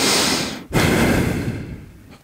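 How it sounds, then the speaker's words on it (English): A heavy, breathy exhale blown straight into a close microphone, a roaring rush that breaks for an instant and then pushes out again, fading slowly, with no talking. "Maybe I'll add more breathing into the mic"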